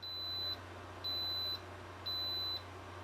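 Instant Pot electric pressure cooker beeping three times, each a steady high tone about half a second long with even gaps, faint against a low steady hum.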